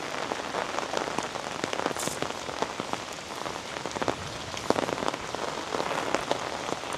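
Steady rain falling on the bank of the Meghna river, a dense, constant patter of drops with occasional louder splashes and no voices.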